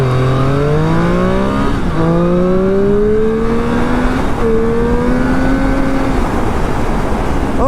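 A 2018 Triumph Street Triple R motorcycle accelerates hard, its engine note rising steeply through several gears with brief dips at each shift. Loud and close, with no talk over it.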